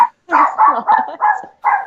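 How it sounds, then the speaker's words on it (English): A dog barks and yips about five or six times in a quick, uneven series, loud and close by, with short pauses between the barks. "That's enough. No more barking."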